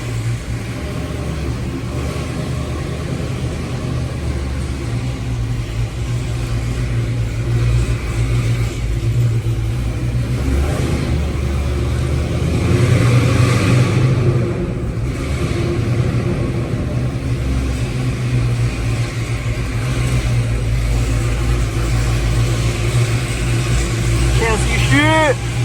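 A Dodge Hellcat's engine drones loud and steady as the car drives at night, a deep rumble swelling around the middle with a brief rising whine near the end, and a voice talking over parts of it.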